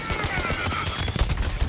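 Rapid gunfire in the video game Borderlands 3 during a boss fight, a dense burst of close, loud shots in quick succession.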